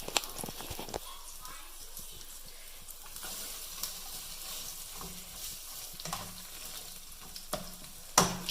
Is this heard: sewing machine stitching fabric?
no